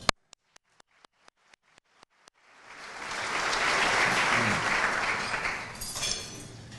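Audience applause at the Goleta State of the City 2014 address: a few sharp, evenly spaced single claps, then a full crowd of clapping swells in and holds steady to the end.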